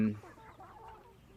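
Hens cluck softly in a short, low run of murmuring calls, fairly close, with nothing else going on.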